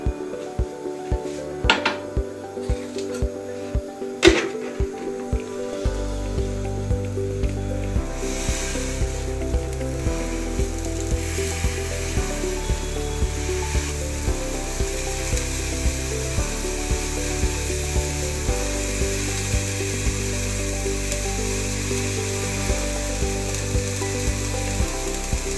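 A salt solution heating in a vessel over a flame, opening with a few clinks and knocks of the pot, then settling into a steady, close hiss and bubbling sizzle that continues evenly throughout.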